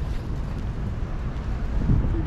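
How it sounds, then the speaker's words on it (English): Wind blows across an outdoor street spot in Los Angeles, a low, muffled rumble buffeting the microphone steadily with a slight gust near the end. "It's windy, everything is fine."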